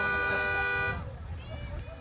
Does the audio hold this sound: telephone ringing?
no